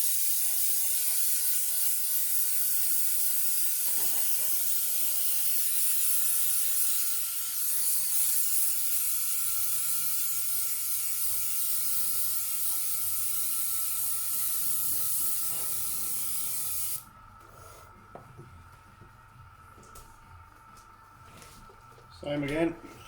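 An airbrush sprays liquid mask onto an RC car body shell with a steady, loud hiss that runs for about seventeen seconds and then cuts off, leaving quieter background and small handling noises.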